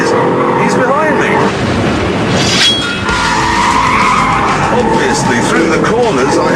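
An Audi R8 V8 and a Porsche Carrera S racing, with engines roaring, rising and falling and tyres squealing and skidding, loud and close under a voice talking throughout.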